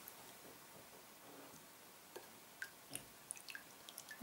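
Faint, scattered drips of water fall one after another from soaked chicken lifted out of water in a quiet setting, irregular at first and then coming a little faster.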